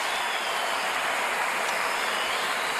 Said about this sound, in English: the crowd with a huge ovation for these two fighters